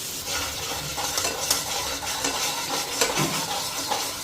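Cumin seeds, bay leaves, salt and turmeric fry in hot oil in a pan while a spoon stirs them, a steady close sizzle broken by scraping strokes and light clinks.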